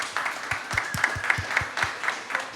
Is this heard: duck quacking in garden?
no